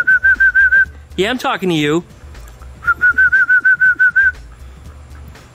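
A person whistles a quick run of short, high, even notes, speaks briefly, then whistles a second longer run of repeated chirpy notes.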